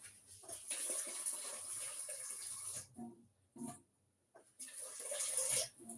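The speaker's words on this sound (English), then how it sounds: "Let me add some more water." Water is poured into a pot for parboiling instant noodles in a home kitchen, a steady close splashing stream that stops briefly twice before running again.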